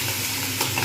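Tangra fish fry in hot oil with a close, steady sizzle and sharp spattering crackles.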